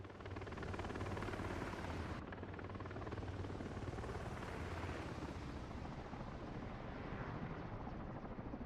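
An MH-60S helicopter in Microsoft Flight Simulator 2024 drones steadily with a dense, continuous rotor and turbine roar, loud and unbroken throughout.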